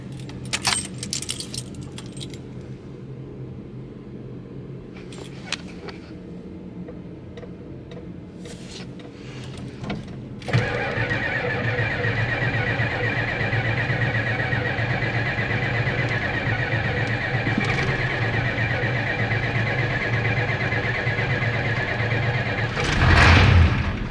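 Old Ford OBS truck, left sitting for four years, with keys jangling before the engine catches about halfway through and settles into a steady, loud idle that continues to the end.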